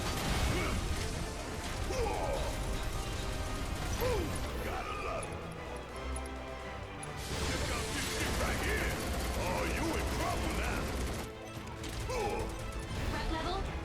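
Rapid, continuous gunfire crackles from a Final Fantasy VII Remake boss fight on hard mode, mixed with game effects and background music at moderate volume.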